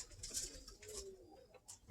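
Roller pigeons flying high overhead give faint coos and soft calls, distant and thin against light outdoor background noise.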